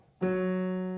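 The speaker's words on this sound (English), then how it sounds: "That's the sound of a French horn." A single sustained French horn note, played softly, swells in after a short silence and holds steady, mellow and soft, with rich even harmonics.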